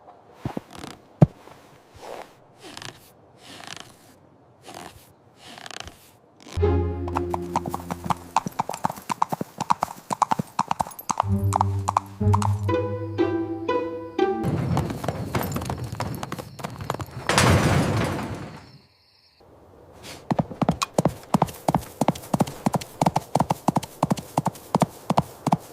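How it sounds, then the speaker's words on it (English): Horse hooves clip-clop on a farm in quick steady beats, close and fairly loud, with brief gaps and other animated sounds between passages. "Nice horsey."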